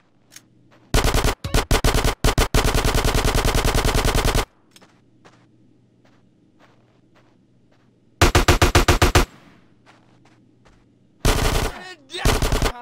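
Bursts of automatic gunfire in GTA San Andreas: a long, loud rapid volley, then two shorter bursts later, with scattered faint shots and background noise in the gaps.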